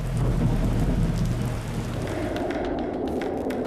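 A heavy, steady downpour in Ziro, Arunachal Pradesh, hisses loudly throughout, with a deep thunder rumble rolling beneath it and no voices.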